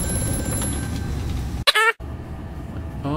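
Telephone ringing in the horror video game Amnesia: A Machine for Pigs, a brief burst of ringing that cuts sharply through loud game noise for about a third of a second, then drops back into the rumbling background.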